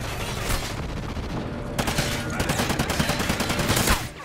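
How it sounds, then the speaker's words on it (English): Gunfire in Call of Duty Ghosts on PS3, a dense stream of rapid shots rattling through busy game noise, with the bursts growing sharper and more regular partway through. "look how bad my shooting is"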